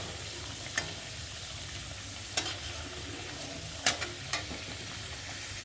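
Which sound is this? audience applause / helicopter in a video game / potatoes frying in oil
potatoes frying in oil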